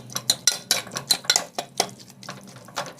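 A spoon scrapes and clinks against a pot in quick, irregular strokes, stirring thick curry, close and moderately loud with no talking.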